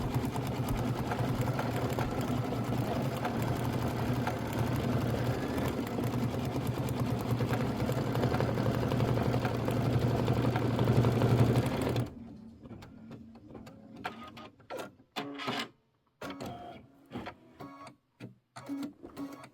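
A Kimberbell embroidery machine stitches out a garland with a steady, rapid mechanical hum and clatter, then stops and gives a series of short intermittent bursts and pauses.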